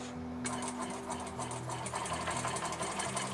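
Sewing machine stitching straight across a tote bag strap at a slow, even pace, a close continuous mechanical hum and needle patter with no talking.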